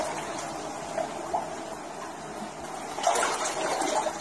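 Floodwater standing about 37 centimetres deep inside a flooded house sloshes and trickles steadily, with a slightly louder splash near the end and no talking.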